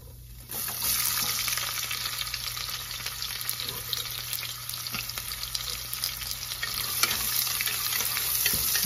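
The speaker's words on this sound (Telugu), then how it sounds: "ఇప్పుడు బిర్యానీ సామాన్లు వేసేద్దామండి ఇది వేగగానే ఆనియన్స్ వేసేద్దాం" Biryani spices and then onions fry and are stirred in a pot, a continuous close sizzle that starts abruptly and stays steady, with occasional scraping from the stirring and no talk.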